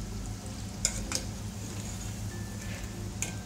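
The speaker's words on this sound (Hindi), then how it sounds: "अब ये शकरपारे थोड़े से गोल्डन ब्राउन हो रहे हैं इसलिए मैं इन्हें अब पलट रही हूँ।" Shakarpara pieces fry in hot oil over a low flame, giving a soft continuous sizzle, with two or three brief clinks as they are flipped in the pan, and no voices.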